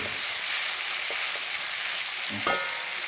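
Pan frying and stirring for Kerala-style chicken curry: a steady broadband sizzle throughout, with light scraping stir strokes and a louder clatter near the end, no voices.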